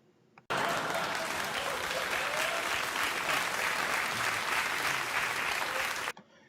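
An audience at a political talk show breaks into sustained applause that starts abruptly, holds loud and dense for about six seconds, then cuts off sharply.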